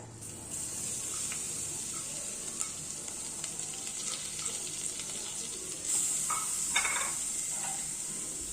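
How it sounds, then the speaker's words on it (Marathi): Finely grated coconut frying in ghee for a sweet modak filling, a constant soft hiss and sizzle close by, with a brief clink of a utensil against the pan near the end. "तूप टाकायचे, त्यानंतर आपण बारीक केलेलं खोबरं टाकूया"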